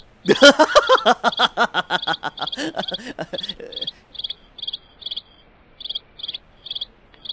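Rapid insect-like chirps pulse in a busy burst, then thin out into evenly spaced, high cricket chirps repeating steadily for several seconds.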